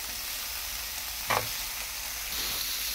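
A spatula stirs mung bean sprouts in a small frying pan, giving a steady low sizzle with one brief louder scrape of stirring partway through.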